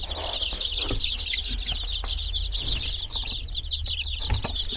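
Chicks and grown chickens kept for feeding cluck and cheep steadily throughout, a dense, close flock chorus of high peeping over low clucks with no talking.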